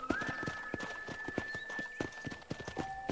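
Horse hooves clip-clop in a steady riding rhythm in Red Dead Redemption 2, crisp and close, under a thin sustained tone.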